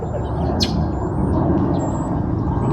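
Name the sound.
bird calling in the park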